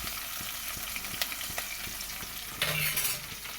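Food fries in a pan on low gas, a steady close sizzle with regular light taps and scrapes of stirring and a louder hiss burst near the end.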